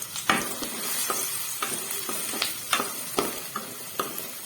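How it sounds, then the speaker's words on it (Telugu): Onions fry in about two spoons of oil in a kadai, giving a close, steady sizzle with regular scraping stirs. "కడాయిలో ఆయిల్ వేసుకున్నాను ఫ్రెండ్స్ ఒక టూ స్పూన్స్ ఆఫ్ ఆయిల్ ఆయిల్లో ఆనియన్స్"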